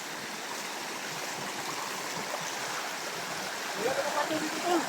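Creek water flows steadily with a broad, even rushing texture at moderate level, joined by a few brief voiced sounds near the end.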